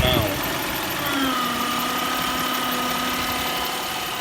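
A Toyota Highlander engine idles steadily close by, a constant mid-range hum with a faint high whine from an alternator that needs replacing running over it.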